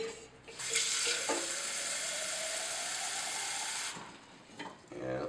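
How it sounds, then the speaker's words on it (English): About 300 milliliters of hot water pours in a steady, hissing stream that starts abruptly, runs for about three seconds, then stops, followed by a few faint clinks. "Pour 300 milliliters of hot water."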